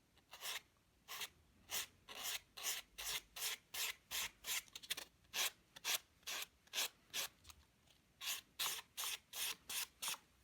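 A nail file rasps back and forth over the sharp edges of acrylic nails, about two dozen crisp, evenly spaced strokes pressed hard, close and fairly quiet with no talking.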